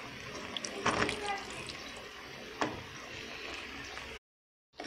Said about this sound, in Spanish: Lo vamos a agregar a los bisteces, por favor